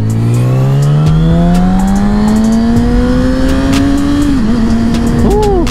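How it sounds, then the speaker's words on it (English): Motorcycle engine pulling hard and rising steadily in pitch, then dipping sharply through a clutchless upshift on a GP shift pattern before climbing again, loud and close over constant wind rush. "Clutchless upshift, way better on a GP shift."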